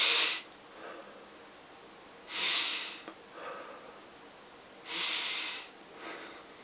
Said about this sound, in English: so I'm gonna take a big inhale